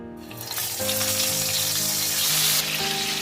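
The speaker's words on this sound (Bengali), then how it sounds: "তেলটা আমার একদম গরম হয়ে গেছে এবার আমি এগুলোকে ফ্রাই করে নেব" Pointed gourd (potol) drops into hot mustard oil in a pan and erupts into a loud, close, steady crackling sizzle that holds for a few seconds with no speech.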